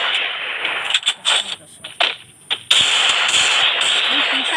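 Gunshots ring out in the Free Fire video game, a loud burst of sharp repeated cracks over sustained game noise, with a voice talking over it.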